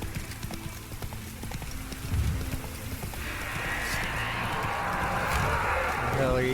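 Horse hooves clip-clopping at a run in The Witcher 3, a steady galloping patter under game ambience, with a brief voice near the start.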